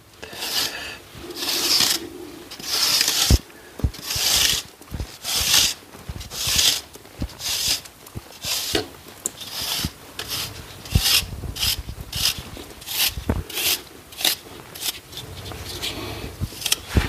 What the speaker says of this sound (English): Again, aggressive with your scratching.